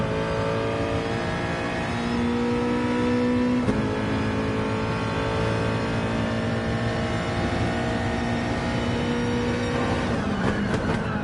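A Nissan race car at full throttle on the straight at Monza in Gran Turismo Sport, a steady high-revving engine drone heard up close, with a brief gear change near the end.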